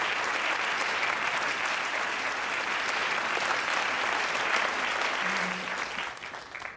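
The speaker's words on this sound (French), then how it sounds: "Je vous demande d'applaudir Alice Howland" Dense, sustained applause fills a hall from an audience, steady and loud before easing off toward the end.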